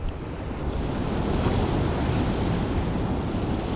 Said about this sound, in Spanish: Tener cuidado con las olas también.